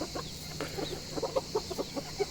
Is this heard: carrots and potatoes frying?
no